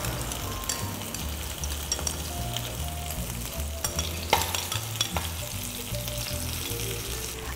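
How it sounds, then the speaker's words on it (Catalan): Garlic sizzling steadily in a couple of spoonfuls of olive oil in a pan, being stirred, with occasional scraping clinks from the utensil; close and continuous, no talking, while rabbit with garlic is cooked. "posem un parell de cullerades d'oli i sofregim l'all"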